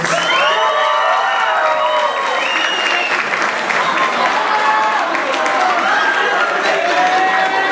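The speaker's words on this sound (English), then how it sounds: "can we have one more round of applause for our class of 2017 dance majors" Sustained applause and cheering from a large crowd at a 2017 high school senior graduation honoring dance majors, steady and loud throughout with whoops and shouts rising over the clapping.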